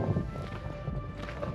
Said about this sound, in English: there's a lot of horses down here that you can hire